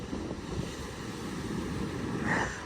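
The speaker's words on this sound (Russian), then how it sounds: "Ну, сильные волны, конечно, очень сильные." Strong Atlantic Ocean waves breaking on a Florida beach, heard as a loud continuous roar and wash of surf with wind buffeting the microphone, no voices.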